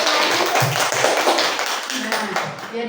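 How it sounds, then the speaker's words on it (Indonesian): Classroom clapping for a student group, a quick burst of many hands tapping together fairly close, fading within three seconds while a teacher's voice speaks over it. "Tepuk tangan untuk kelompok 1."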